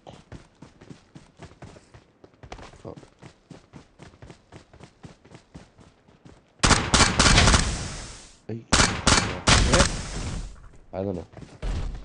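Rapid bursts of gunfire in the mobile battle-royale game PUBG Mobile on the Sanhok map: a quieter string of repeated shots, then a much louder, dense volley and further clustered bursts, mixed with in-game sound and voices talking.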